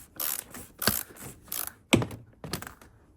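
A ratchet wrench clicks in short bursts during an oil change on a BMW X3 diesel, several sharp close rattling strokes separated by brief pauses.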